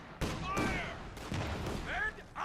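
Bursts of gunfire crackle over infantry during a Company of Heroes 2 battle, coming in several rough volleys mixed with whistling, sweeping battle effects.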